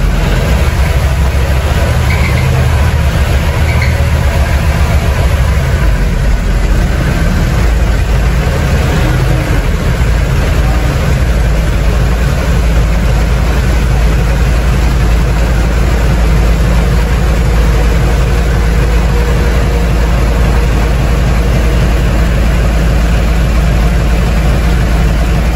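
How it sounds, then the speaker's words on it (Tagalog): A nearly new car engine runs steadily for the whole stretch, a loud, even low-pitched rumble and drone with no change in pace. "Narinig naman ninyo yung makina"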